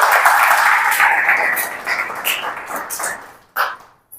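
A church congregation claps hands together in praise, a dense, loud burst of overlapping claps that gradually thins and fades, ending with a few scattered final claps.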